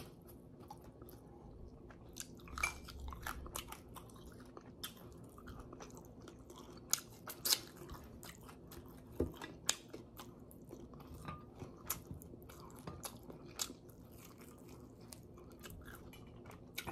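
Close, crunchy chewing of crispy fried pork lechon kawali at a Filipino mukbang meal, with repeated bites and crackles and the occasional light clink of utensils, all fairly quiet and free of talk.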